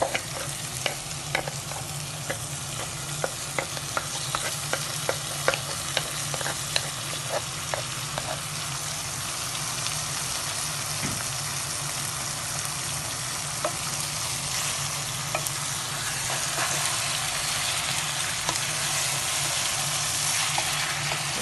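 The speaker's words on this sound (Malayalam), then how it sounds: "നമ്മൾ ആ വേവിച്ച് വെച്ച് ചെമ്മീൻ ഇതിലേക്ക് ചേർക്കുകയാണ്" Cooked prawns tipped into sautéed onions for a prawn roast and stirred in a pan, giving a steady close sizzle and frying hiss with repeated scraping stir strokes throughout, no talking.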